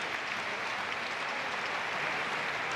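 A basketball crowd at a Spain versus Romania EuroBasket 2017 game applauds the Romanian team, a dense, steady wash of clapping that fills the arena without pause.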